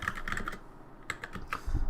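Keys clatter on an ergonomic computer keyboard in quick, irregular bursts of close, crisp clicks, with a short pause midway and a soft thump at the end.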